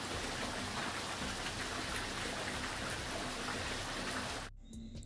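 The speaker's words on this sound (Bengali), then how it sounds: "বাইরে প্রচণ্ড বৃষ্টি হচ্ছে" Heavy rain falls outside as a dense, even, rushing patter at moderate distance, fairly soft and continuous, then cuts off abruptly near the end, leaving a quieter room tone.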